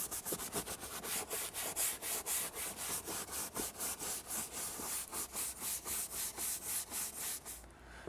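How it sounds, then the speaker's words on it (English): Brisk scrubbing of a leather car seat with an OEM-approved leather cleaner, a steady run of roughly two dozen rhythmic back-and-forth brush strokes, close and loud, stopping just before the end. "once you're done scrubbing the leather"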